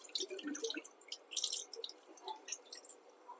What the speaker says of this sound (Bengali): চিঁড়েটাকে আমি একটু জল দিয়ে ধুয়ে ফেললাম।